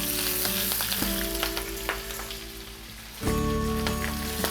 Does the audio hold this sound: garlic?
yes